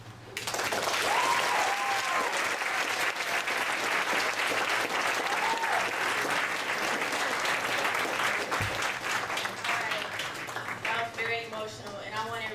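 Sustained audience applause at a poetry night, steady and full for most of the stretch, thinning near the end while a few voices and cheers poke through.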